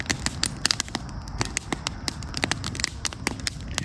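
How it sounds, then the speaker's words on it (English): An after-supper campfire at a campsite crackles and pops with irregular sharp snaps over a low steady rushing bed, close and moderately loud, with no talk. "After supper campfire."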